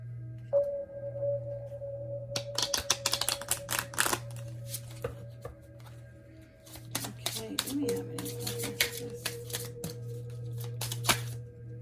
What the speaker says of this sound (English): let's pull some angel romance cards and see if we can get some more messages on this